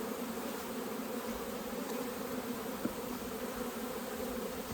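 A steady, dense buzzing of many honeybees around a hive fills the air continuously, close and fairly loud, with no talking.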